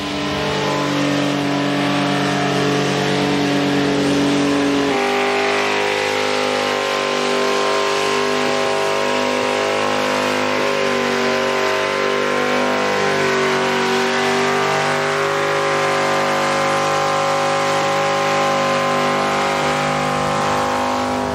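A Holden EH does a burnout at a Summernats car festival, its engine revving hard and continuously at high pitch, loud and close, with a drop in pitch about five seconds in and a steady roaring drone afterward.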